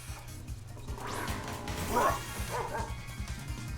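Dog Pokémon barking during a battle in a Pokémon video game: a few yappy barks and yips rise out of the game music, with a brief crash-like effect near the middle.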